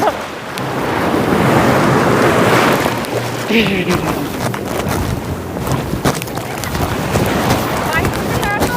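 Cold ocean surf rolls in at Long Beach, New York, a broad, roaring wash with heavy wind buffeting the microphone, and a voice is heard talking over the waves.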